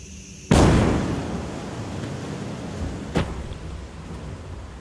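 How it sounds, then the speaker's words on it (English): Starship Booster 18 bursts in a sudden loud explosion during a nitrogen pressure test, a sharp blast followed by a long rumbling decay, with a second smaller crack a few seconds later, heard from a distance. "When we were pressing the nitrogen system, we had an explosion that took out the rocket"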